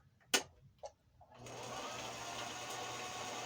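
A sewing machine winding thread onto a bobbin starts up after a few light clicks and taps, then settles into a steady, even motor whir that holds to the end.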